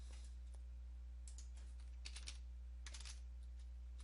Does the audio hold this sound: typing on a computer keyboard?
yes